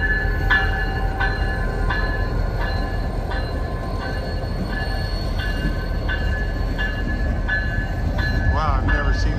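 A freight train with a switch engine at the back rumbles past nearby near Galesburg, with steady low-end roar and rhythmic clacks of wheels over rail joints, metallic squeals rising near the end.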